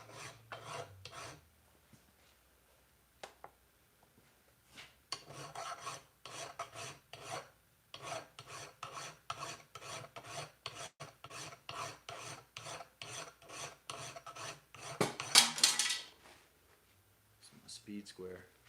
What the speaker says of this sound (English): let's file this blade a little bit and then move on to the next thing